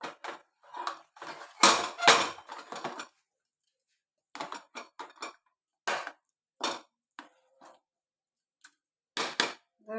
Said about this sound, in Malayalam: തുറന്ന് നോക്കിയിട്ട് ഇളക്കട്ടെ